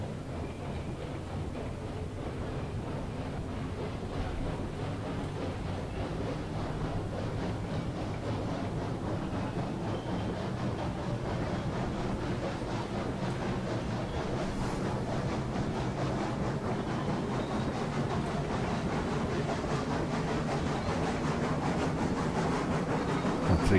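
A locomotive in Railroads Online runs steadily with a continuous low rumble and faint rhythmic clatter, holding an even level for over twenty seconds with no talking.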